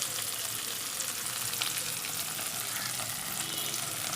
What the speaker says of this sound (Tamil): போட்டு அதை நல்லா வதக்கிடுங்க